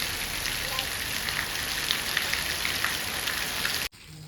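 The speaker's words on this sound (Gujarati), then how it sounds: "વરસાદ આવ્યો ને હું તો રૂમમાં હતો બહાર નીકળીને જોયું" Steady rain pours down outdoors, a dense, even hiss of drops on surfaces with faint scattered patters, continuing without a break until it cuts off abruptly near the end.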